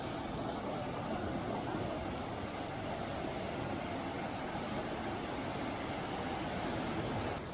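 Roaring Fork stream on a nature trail near Gatlinburg, steady rushing water flowing continuously at an even, moderate level with no talking.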